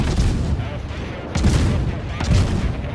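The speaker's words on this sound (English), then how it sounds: "Just chain firing away on the Moskva" Warship guns firing in World of Warships, the Moskva chain firing, heavy booming salvos repeating every second or so over a constant rumble of battle noise.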